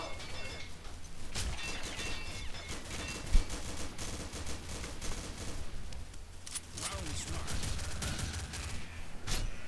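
Remington gunfire in the online shooter Combat Arms on the Lunar Labs map, heard as rapid bursts and single cracks over a busy, noisy battle mix, with one sharper loud shot standing out.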